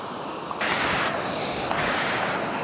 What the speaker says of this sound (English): Sorry if the waterfall is a bit loud.